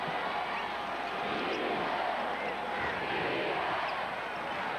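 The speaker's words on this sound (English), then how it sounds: "You hear the chant of defense from the crowd" A packed basketball arena crowd at the 1996 Bulls vs Magic Eastern Conference Finals Game 4 makes a steady, dense roar that holds at an even loudness for about five seconds, with no distinct individual voices standing out.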